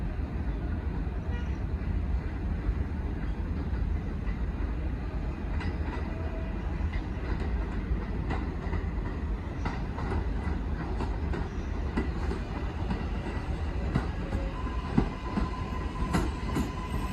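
An IRT (4) subway train at Bedford Park Blvd–Lehman College station rumbles steadily throughout, with scattered wheel clicks and brief high squeals as the cars roll along the track.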